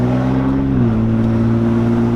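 Lexus IS300 with a custom exhaust idling on a cold start, a loud steady low droning rumble close by that dips slightly in pitch partway through, with no voices.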